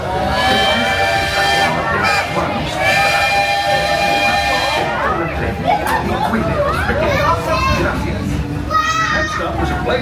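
A Magic Kingdom train rolls along with a steady low rumble, under a loud spoken announcement, children's voices and background chatter, with whistle-like tones sounding at moments.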